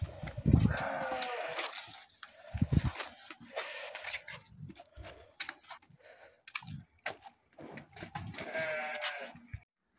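Katum rams bleat close by while being loaded into a car trunk, with repeated loud calls, shuffling, knocking and faint jangling between them.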